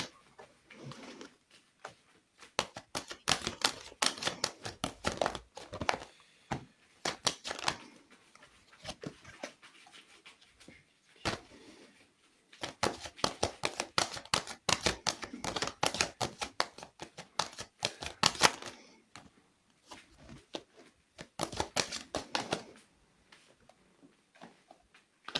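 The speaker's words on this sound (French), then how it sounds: "Allez, je fais la coupe, Angélique, pour vous." Tarot cards being cut and shuffled during a card reading, giving sharp papery clicks and flutters in irregular bursts, close and fairly loud, separated by short quiet gaps.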